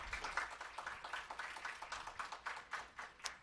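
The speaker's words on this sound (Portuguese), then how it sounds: "eu gostaria de pedir uma salva de palmas aos nossos palestrantes" Audience applause at a Brazilian governance event as the speakers are thanked, steady dense clapping through the whole stretch with no talk over it.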